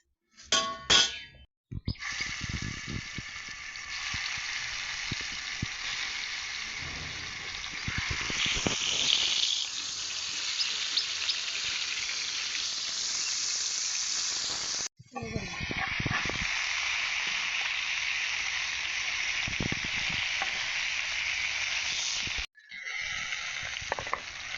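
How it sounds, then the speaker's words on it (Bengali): Taro leaf greens frying in a pan on a gas stove, a loud continuous hiss and sizzle heard close up, broken by brief pauses and a few metallic clangs of stirring. "দেখেন ভাজা ভাজা করে ফেলছি।"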